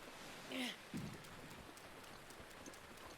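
Steady rain hisses outside, faint and continuous, with soft patter and no clear individual drops, and a brief louder rustle near the start.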